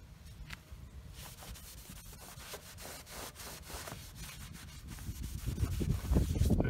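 A washcloth with WD-40 rubbed over aluminum pontoon tubing gives quiet, repeated scrubbing strokes in an uneven rhythm, growing louder and rougher toward the end, with no talk.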